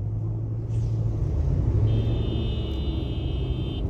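Dense road traffic on a busy city road, a continuous low engine rumble from nearby vehicles with a steady high whine from a passing vehicle partway through.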